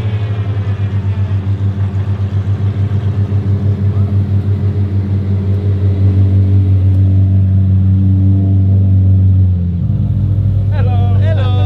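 A loud, deep Apollo IE engine rumble drones steadily from up close at a car meet, shifting pitch near the end as a faint voice comes in.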